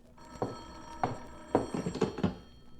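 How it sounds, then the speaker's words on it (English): An old telephone rings in a classic radio drama scene, a series of separate ring bursts with short gaps between them, heard alone at a moderate level in a quiet room. "It was the phone."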